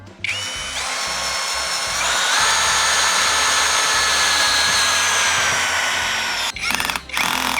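A NANWEI 16.8V cordless drill driver drives a large bolt, giving a loud, close, steady whining motor drone that rises slightly in pitch partway through, then stops abruptly, followed by a few short clicking bursts.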